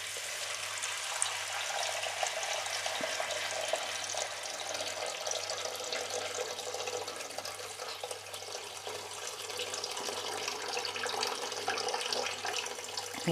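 Water poured from a tap or jug over pork shoulder in a cooking pot, a steady close rush of liquid running evenly without pause and without talk.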